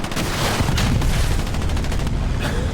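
Anti-tank rocket fire during a competitive World War II shooter match: a loud, unbroken barrage of blasts and rapid gunfire packed tightly together, with no voices.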